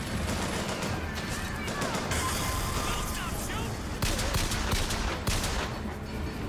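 Sustained gunfire in Bioshock Infinite, shots crackling continuously amid a loud, dense battle mix with turret fire and combat shouting layered underneath.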